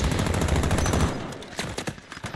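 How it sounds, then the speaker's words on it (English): Rapid automatic gunfire in Call of Duty Warzone, a dense loud burst of shots for the first second, then scattered sharper single shots and short volleys further off. "I'm under fire."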